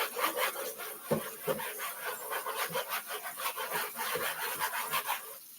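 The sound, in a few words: knife cutting on a rubbery plastic cutting board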